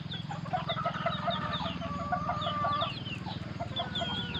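Hybrid chickens clucking in the morning, a steady chorus of soft repeated clucks and chirps with a low continuous murmur beneath, moderately close and even in level throughout.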